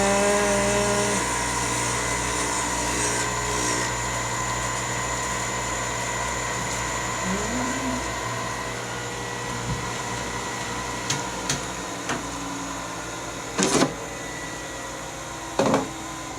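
A flywheel resurfacing grinder stone in a machine shop gives a steady mechanical hum with a tonal whine that slowly winds down. A few sharp clanks come near the end, and no one speaks.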